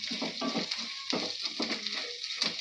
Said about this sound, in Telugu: పోపు ఎగిపోయింది చూడండి.